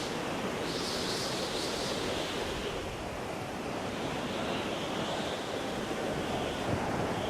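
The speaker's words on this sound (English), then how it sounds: "It's very windy conditions here." Strong wind blowing steadily in a windswept outdoor area of Elder Scrolls Online during a battleground PvP match, a loud continuous rushing gust that fills the whole stretch with no pauses.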